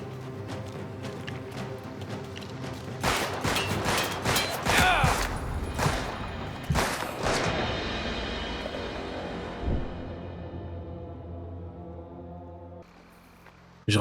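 Automatic gunfire crackles in rapid, dense bursts in the Mafia video game, loud and clustered in the middle before thinning out into a fading rumble, then cutting to quieter ambience.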